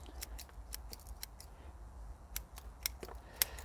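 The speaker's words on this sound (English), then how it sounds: "I have to cut away a lot of roots" Sharp scissor snips cut through the roots of a Japanese maple raft during a root prune, a dozen or so quick, close clicks spaced irregularly over a quiet background.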